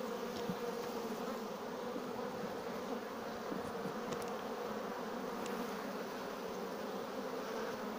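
Honeybees in an opened beehive, a split colony, fill the air with a dense, continuous buzzing drone, steady and close, with faint clicks from handling the box.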